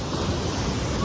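Waves breaking along the shore at Bagac Bay, churned up after rain, make a loud, steady wash of surf with no voices.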